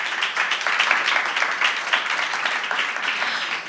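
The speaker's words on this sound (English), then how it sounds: "Please, a quick round of applause to welcome Alicia." Audience applause welcomes a panelist at a panel discussion on youth violence, a steady wash of many hands clapping together at close range throughout, with no voices over it.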